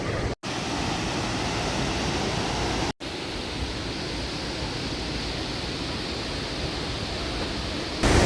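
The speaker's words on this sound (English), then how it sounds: "I can feel the spray of the waterfall." A roaring waterfall in Yosemite National Park pours out a steady broadband rush of falling water and spray, loud and close, continuous throughout with two brief dropouts and no voices.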